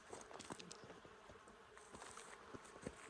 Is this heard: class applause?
no